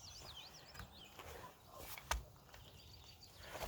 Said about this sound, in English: I'm hearing all these birds.